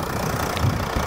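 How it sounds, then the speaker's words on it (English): A 2012 Mercedes-Benz E350 BlueTEC sedan's diesel engine idles with a steady, low rumble and a faint clattering texture, heard close and continuous. "Here's the engine."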